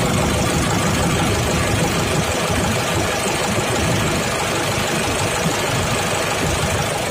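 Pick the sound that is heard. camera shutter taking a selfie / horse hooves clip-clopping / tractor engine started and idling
tractor engine started and idling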